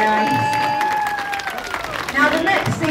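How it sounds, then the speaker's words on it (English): An audience at a sea lion show claps and cheers, a steady wash of applause with a presenter's voice ringing over it and a swell of crowd noise near the end. "Give him a big cheer."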